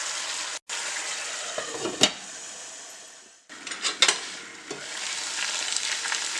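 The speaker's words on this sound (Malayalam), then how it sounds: "നമുക്ക് ഇതിലിട്ട് ഒന്ന് ഫ്രൈ ആക്കി എടുക്കാം" Chicken pieces fry in oil in a pan as the water cooks off, giving a steady crackling sizzle broken by a few clatters of a utensil stirring against the pan.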